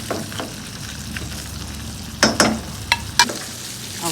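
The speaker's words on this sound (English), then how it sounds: "I'm going to stir it all up and it has to simmer for another" A sweet tomato, date and raisin pachadi simmers and sizzles in a pan, with a continuous soft bubbling hiss and a few sharp clinks and scrapes from stirring near the end.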